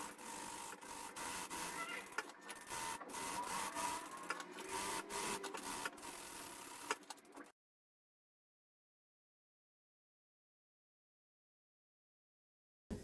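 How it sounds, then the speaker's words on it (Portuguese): A sewing machine runs a rapid, continuous stitching rattle along an apron seam for several seconds, with a few short stops and back-tacks, then cuts out to silence. "E vou fazer a costura com a medida do pé de máquina."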